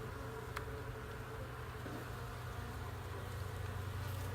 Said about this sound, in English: There's a lot of bees on this frame.